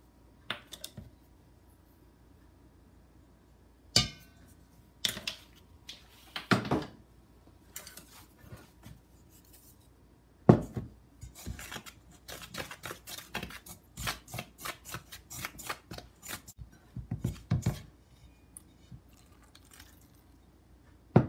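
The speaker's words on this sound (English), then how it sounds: "First we mix eggs and sugar flour together." Eggs, sugar and flour being mixed by hand into a flaky pastry dough, giving soft irregular squishing and tapping bursts that cluster closer together in the second half, close up and quiet, with no talking.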